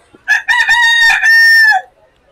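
A rooster crows loud and close in one long, full call at a Bangladeshi village market, preceded by a brief cluck.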